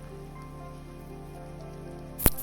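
Heavy rain falls steadily outside a home kitchen in Japan, a soft, constant hiss at low level, with a sharp brief crack near the end.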